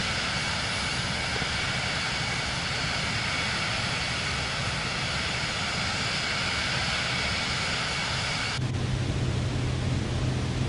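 A Vision Jet G2 in Microsoft Flight Simulator 2024 gives off a steady broadband jet roar that runs unchanged, then shifts abruptly near the end into a lower, different engine tone as it throttles back.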